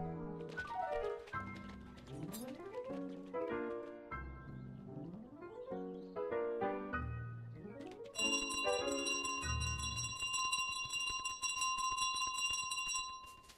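Bells ring in a small pit at the start area of Untitled Goose Game, a run of bright chimes and falling tones followed by a sustained cluster of high ringing, with no talk over it.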